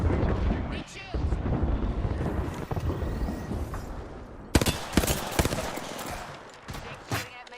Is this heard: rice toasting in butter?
no